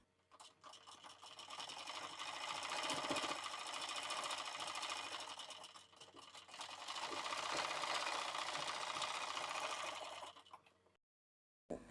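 A sewing machine stitches a blouse seam in two quick, steady runs of rapid needle clatter with a short pause between them, then stops, with no one speaking.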